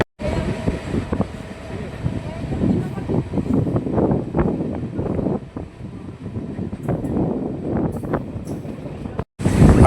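Passenger train on the Howrah–Purulia line via Masagram, skipping Mirzapur Bankipur stations: a continuous close rumble and rattle with wind buffeting, while someone talks over it.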